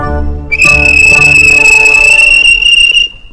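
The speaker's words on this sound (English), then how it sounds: "The guard blew his whistle" A train guard blows his whistle in one loud, shrill, steady blast lasting about two and a half seconds, ringing over quieter low background tones.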